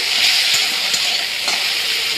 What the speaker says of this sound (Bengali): এই যে তেলটা ছিটতে যাচ্ছে